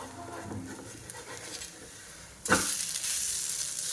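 Potato slices pan-roasting for a fasting-day dish sizzle quietly, then a sudden burst as they are flipped turns into a louder, steady frying hiss that carries on to the end.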